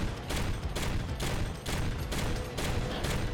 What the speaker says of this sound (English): Technically, this is an autocannon as well.